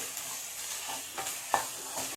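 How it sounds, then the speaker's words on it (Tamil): Tomatoes sizzle softly in a hot frying pan while a utensil stirs them a few times, with quiet scraping and crackling. "தக்காளி போட்டு நல்லா வதக்கிடுங்கம்மா"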